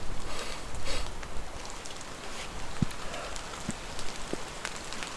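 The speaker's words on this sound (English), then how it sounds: "here comes the rain again" Steady rain patters down outdoors along a hiking trail, a dense continuous hiss with scattered louder drops tapping nearby, no voices heard.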